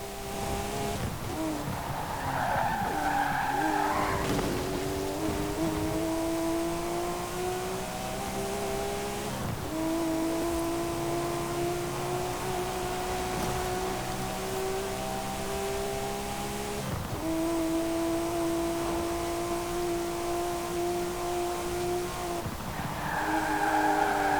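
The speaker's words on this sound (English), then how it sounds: "it sounds great because of how high it revs" A 1990 Porsche 911 Reimagined by Singer in Forza Horizon 4: the high-revving engine whines steadily, rising in pitch through the gears with brief dips at each shift, loud and continuous with tire noise.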